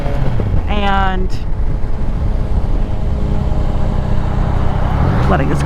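A car passes a motorcyclist on the open road, its engine hum rising and fading against steady, loud wind and motor roar, while a person talks over it.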